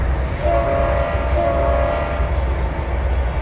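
A long freight train with 80 cars moves in the Trainz 2022 railroad simulator, a loud, continuous rumble of rolling wagons with a faint sustained tone running through it, and no voices.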